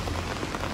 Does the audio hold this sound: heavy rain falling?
yes